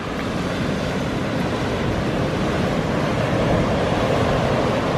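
Ocean surf at Laguna Beach gives a loud, steady wash of waves with wind buffeting the microphone throughout, and no voices.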